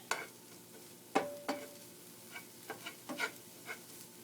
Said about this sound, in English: as the onions continue to cook